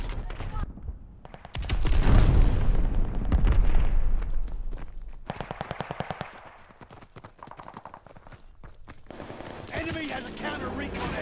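Grenade explosions and heavy gunfire boom through a Call of Duty Vanguard multiplayer match, with loud rumbling blasts and rapid shot bursts while game voices call out over the battle.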